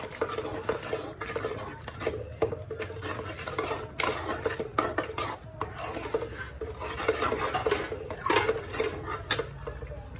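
Pasta is added to a creamy onion sauce in a pan and stirred, with soft scraping and rubbing of a utensil against the pan and light wet patter in a steady rhythm.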